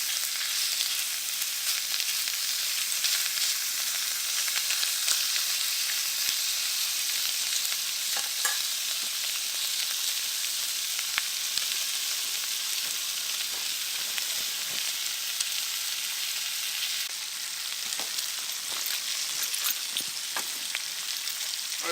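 Thick bacon pieces fry in a pan for breakfast sandwiches, giving a steady, dense sizzling hiss with scattered small pops and crackles throughout, close and continuous.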